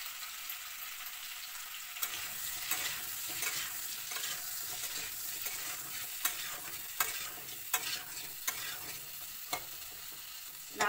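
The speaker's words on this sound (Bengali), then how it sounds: "নাড়াচাড়া কইরা ভাজা হইব ভালো মতো" Potato and pointed gourd pieces with a little turmeric frying in a wok, a steady soft sizzle broken by repeated scraping stirs of a spatula at irregular intervals, close and fairly quiet, with no voices.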